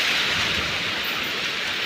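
Heavy rain pours steadily during a village storm, with a low rumble of thunder underneath, a dense continuous hiss with no voices.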